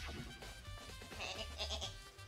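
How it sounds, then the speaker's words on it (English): Goat bleats in the Danganronpa video game, a quiet, wavering cry repeated over a couple of seconds against a steady background hum. "it's just those actual goat screams"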